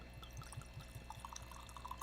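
Mezcal, an agave spirit, trickles into a glass with a faint, thin liquid patter and light drips, quiet and close.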